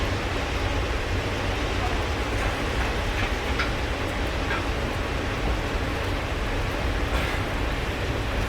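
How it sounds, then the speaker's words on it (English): Rain falls as an unbroken, even hiss of broadband noise, steady and fairly close for the whole stretch, with faint scattered ticks over it. "Raining."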